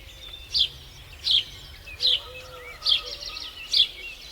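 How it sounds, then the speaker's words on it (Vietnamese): A sparrow gives five short, high chirps at fairly even intervals, faint and a little distant, over soft outdoor background noise. "Sparrow."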